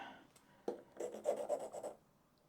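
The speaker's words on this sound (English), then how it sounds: "these are very fiddly to sharpen" Short raspy strokes of a sharpening tool across the curved blade of a small cross grain nicker knife, several quick rubbing passes heard close and fairly quiet.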